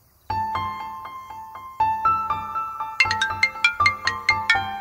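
An incoming call sets off a mobile phone ringtone, a bright electronic melody of chiming tones that plays on its own, first as held notes and then as a faster run of repeated plucked pings.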